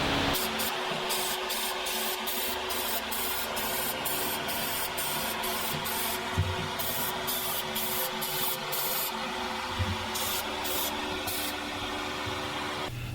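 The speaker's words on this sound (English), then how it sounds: "I'm gonna spray the whole thing with lacquer" Steady hiss of a spray gun applying lacquer finish to a turned myrtlewood piece, running continuously with brief regular interruptions as the trigger is released and pressed again.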